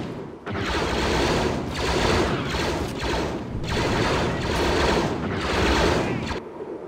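Rapid automatic gunfire rattles through a Star Wars battle on Naboo in a war game mod, loud sustained bursts broken by brief pauses, close and dense.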